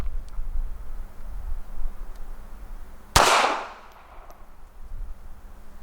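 A single sharp report from a Walther PPK .380 pistol rings off a steel plate as a bright metallic clang, followed by a short ringing decay in an outdoor range.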